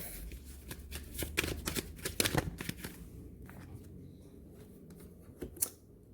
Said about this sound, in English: I'm just going to pull another couple of cards from the Cosmic Consciousness Ascension deck.